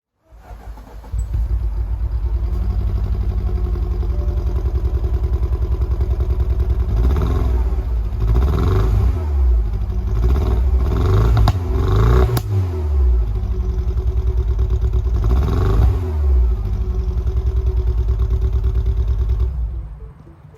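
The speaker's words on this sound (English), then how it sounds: "That right there was a demonstration of exhaust note." A lowered car's exhaust note, loud and close, revving up and falling back in several repeated bursts over a steady idle rumble.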